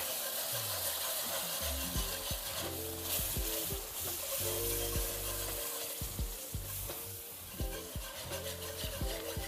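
Oxtails sizzle and fry in a pan as beef broth is added a little at a time, with a steady crackling hiss and scraping stirring sounds close by.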